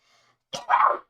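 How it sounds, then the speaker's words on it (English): A single sharp sneeze, close and loud, with a faint intake of breath just before it and silence around. "I have to sneeze."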